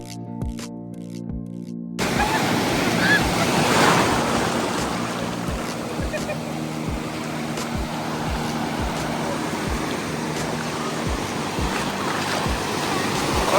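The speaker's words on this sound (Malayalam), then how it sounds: "നല്ലൊരു അടിപൊളി ബീച്ചാണ് കേട്ടോ." Ocean waves washing on a beach at Stradbroke Island, a steady broad roar of surf with gusty wind buffeting the microphone, preceded by a brief burst of music at the start.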